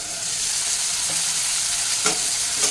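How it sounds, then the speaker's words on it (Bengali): Chicken with onions sizzles loudly in a pan for a light spiced chicken broth, a dense, steady frying hiss with two brief stirring scrapes from a spatula, heard up close with no speech. "এখন এটাকে হালকা করে একটু নেড়ে ফেলে দিচ্ছি"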